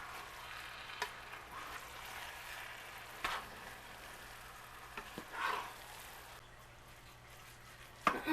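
Egg roll filling stirred with soy sauce in a hot pan, a quiet steady sizzle with occasional soft scrapes and clicks of the utensil, no talking.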